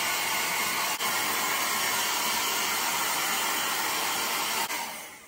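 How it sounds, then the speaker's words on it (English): A hair dryer blows loudly and steadily at close range, a constant rushing whir that briefly dips twice before winding down at the end. "it's the hair dryer"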